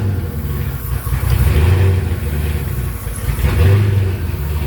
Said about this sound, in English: That's the turbos.